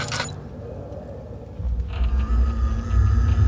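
A door creaks open in the horror video game Amnesia: The Dark Descent, a sharp close creak followed by a low mechanical rumble and drone that swells and holds steady.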